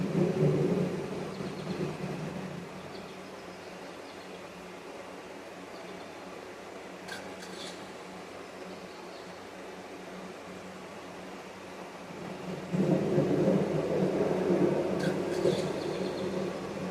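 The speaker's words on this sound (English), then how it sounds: "Another gnarly storm coming in." Low rolling thunder from an approaching severe thunderstorm, a loud rumble opening the stretch, fading to a steady low murmur, then swelling into another heavy, sustained roll near the end, with no voices.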